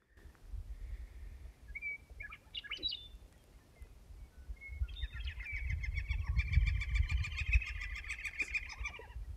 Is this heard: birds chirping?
yes